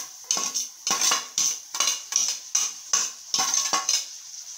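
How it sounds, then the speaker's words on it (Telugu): Drained cabbage goes into hot oil in a pan and is stirred with a metal utensil, producing a steady run of about eight loud, close scraping strokes against the pan. "ముందుగా మనము వడగట్టి పెట్టుకున్నటువంటి క్యాబేజీని ఇందులో వేయాలి"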